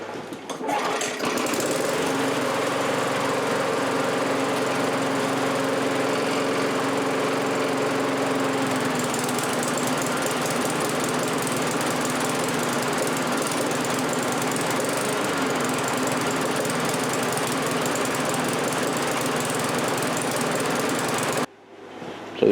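A Briggs & Stratton 4HP engine on a Weedeater push mulcher mower starts and runs loudly and steadily at close range, with a rough, knocking tone, then cuts out abruptly near the end.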